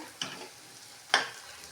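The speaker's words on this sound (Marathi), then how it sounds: "आपण मालवणी मसाला टाकतोय हा चांगला परतवून घेऊया" Onion sautéed with Malvani masala in a pan, a quiet sizzle broken by two short scraping stirs of a spoon.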